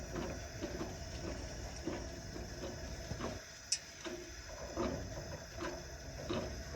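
A vintage 1940s Coleman 413C camp stove gives a steady, close broadband hiss and roar while being shut down, dipping briefly midway with a single sharp click before the hiss carries on.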